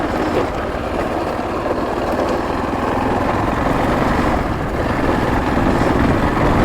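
A motorbike engine hums steadily while riding on a mountain road, a continuous low drone mixed with wind rush, moderately loud and even, with no speech.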